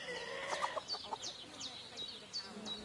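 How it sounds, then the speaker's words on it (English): Chickens and a rooster clucking in the medieval open-world game Kingdom Come Deliverance 2, a string of sharp, repeated clucks at moderate distance over a soft ambient background, fairly quiet overall. "chicken! Rooster!"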